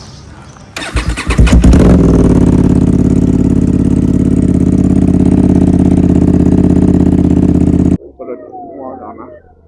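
A motorcycle engine starts with a few rough bursts, then settles into a steady, loud, close idle as it warms up in the early morning, running for about six seconds before it cuts off abruptly, followed by faint background sounds.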